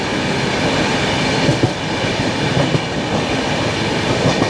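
The 12863 Howrah–Bengaluru SF Express races through Bagnan station in thick fog, heard from on board as a loud, steady rumble of wheels with faint rhythmic clickety-clack over the rails.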